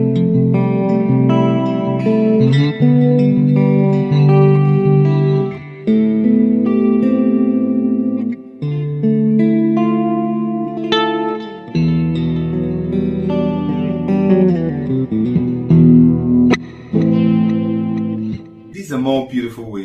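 Guitar chords with added notes ring out one after another through effects such as distortion, chorus and reverb, each strummed chord sustaining loudly with no talking.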